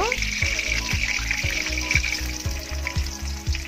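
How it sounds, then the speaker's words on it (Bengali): Sliced onions fry in a pan with whole cardamom, bay leaf and chillies for a curd chicken dish, giving a close, steady sizzle broken by regular knocks and scrapes of stirring. "কেটে রাখা পেঁয়াজ, দিয়ে এটাকে আমি ভালো করে এবার একটু লাল লাল করে ভেজে নেব"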